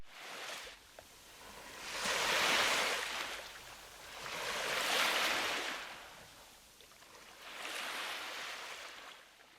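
Ocean waves roll in to close the album: three slow, even swells of surf rise and fall, a soft seaside wash heard alone at a distance.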